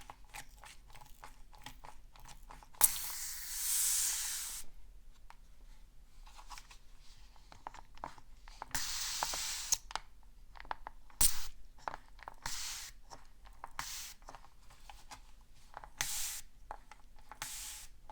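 A spray bottle of natural spring water with aloe vera and oils gives several short, close hissing spritzes, spaced irregularly among quiet crackly handling sounds; no talking.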